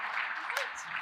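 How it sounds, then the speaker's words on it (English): Applause from a business awards event audience for the panelists, a steady wash of many hands clapping heard from a distance, fairly faint and even throughout. "a round of applause for all of our panelists"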